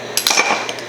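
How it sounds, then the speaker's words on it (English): A fork clinks and scrapes against a bowl while two eggs and a teaspoon of salt are mixed, giving a few quick, close metallic taps in a short burst. "Let's use our fork from our pudding and just kind of mix that up real quick."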